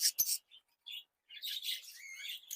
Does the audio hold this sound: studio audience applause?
no